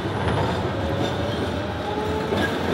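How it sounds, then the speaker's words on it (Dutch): A tram rolls through Amsterdam with a steady, continuous rumble and rail noise filling the whole stretch, plus faint wheel squeal and light clatter and no voices. "We gaan lekker met de tram naar Amsterdam."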